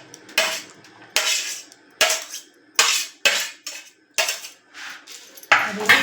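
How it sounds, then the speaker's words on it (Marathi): Spoon mixing bhel with onion, raw mango, chili and tomato in a metal bowl, producing six or seven loud, separate bursts of clattering scrapes with short pauses between them. "आणि मिक्स करून ते सगळं."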